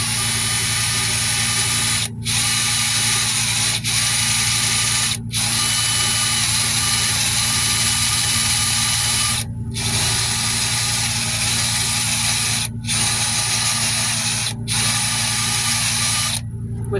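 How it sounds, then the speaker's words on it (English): A power drill bores off the head of a rivet on a rider safety buckle, a loud steady close whine running in long bursts, broken by several brief pauses where the trigger is released. "you want to drill the head of the rivet off first to begin with"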